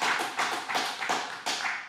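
Light clapping from a few people in a studio podcast setting, several short bursts of claps over two seconds, fairly close and without talk.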